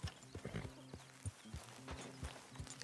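Horse hooves clip-clop in a quick, uneven rhythm in the video game Red Dead Redemption 2, with a brief whinny mixed in. The sound is close and moderately quiet, with no voices over it.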